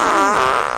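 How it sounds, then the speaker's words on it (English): A loud, sputtering fart sound effect from the video game Fiendish Thieves, one continuous buzzing blast lasting under a second. "even one incredibly cringy fart joke"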